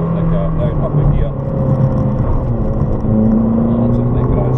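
A Ferrari California engine grunts at low revs as it drives and shifts up a gear, a steady close drone with pitch changes, while an instructor talks over it throughout.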